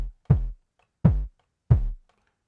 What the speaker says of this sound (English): got your own sort of tuned kicks